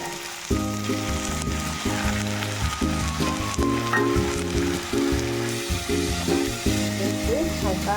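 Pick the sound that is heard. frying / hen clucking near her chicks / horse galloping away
frying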